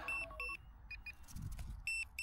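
A flight-timer alarm on a Corsair warbird RC plane sounds near the ten-minute mark, giving repeated short, high electronic beeps in quick pairs and groups with brief gaps and faint background noise.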